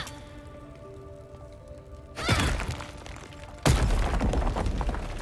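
A destroyed object crashing down in Baldur's Gate 3, two sudden loud impacts with a shattering, thudding break, each followed by a short rumble of debris.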